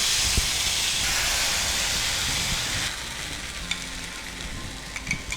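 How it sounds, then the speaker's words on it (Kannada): Steady sizzling hiss of cumin seeds frying in hot oil, turning into scattered sharp pops and crackles toward the end. "ಇದು ಜೀರಿಗೆ ಸಿಡಿಬೇಕು"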